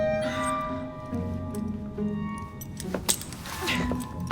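Keys jangle and clink in a brief cluster as they are handed over in an Assassin's Creed game scene, the metallic rattle sitting over a low hum of game ambience and music.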